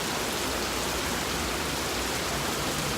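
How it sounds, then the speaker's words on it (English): Heavy rain pours down outside in the early morning dark, a steady, dense hiss of water that fills the whole stretch without a break and with no voices. "Can't be getting the shuttle because it's raining so bad."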